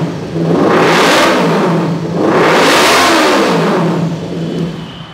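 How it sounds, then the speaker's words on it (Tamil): A Kawasaki Ninja motorcycle's exhaust roars as the engine is revved twice in succession, each rev rising and falling in a loud, close, sweeping swell, with no speech. "ஸ்டார்ட் பண்ணி காட்டுறேன் பாருங்கள். எக்ஸாஸ்ட் சவுண்ட் வேறு லெவலில் இருக்கும்."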